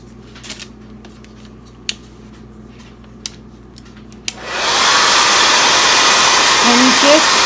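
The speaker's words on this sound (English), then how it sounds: "And I don't have a heat gun, but I have a hairdryer." After a few faint clicks and taps, a hairdryer switches on and blows hot air onto plastic packaging, a sudden loud steady whoosh that continues to the end.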